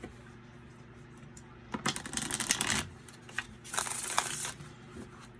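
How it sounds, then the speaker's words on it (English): Playing cards with a rose petal finish being shuffled, two crisp riffling bursts of rapid fluttering clicks, close and clear against quiet background. "Let me show you, like, shuffling."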